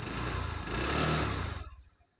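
A small TVS Jupiter scooter engine from 2014 runs smoothly at a steady idle, then cuts off and fades into quiet.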